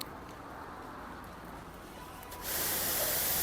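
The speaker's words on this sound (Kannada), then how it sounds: "ಶಾರ್ಪ್ ಸ್ಪ್ರೇ ಬರುತ್ತೆ ಇದು." A spray gun nozzle giving a sharp spray: after a quiet stretch, a sudden loud, continuous hiss bursts in and holds steady to the end.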